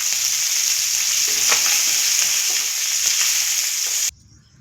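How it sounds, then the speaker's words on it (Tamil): Murrel fish sizzles steadily while frying in a hot pan, a loud, continuous crackle with faint stirring, cut off abruptly near the end with no talking. "அருமையாக விரால் மீன் வறுத்தாச்சு"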